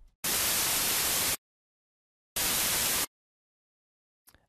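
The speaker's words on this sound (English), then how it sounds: "on the first oscillator change the waveform to noise." Two bursts of harsh, full-band synthesized white noise from an FL Studio 3x Osc oscillator set to a noise waveform, each lasting about a second with abrupt starts and stops and silence between.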